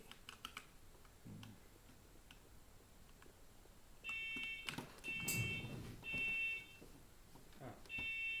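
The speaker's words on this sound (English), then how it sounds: "Fire alarm just went off." A fire alarm goes off indoors in short, shrill, repeated beeping bursts, preceded by soft computer keyboard typing and faint clicks.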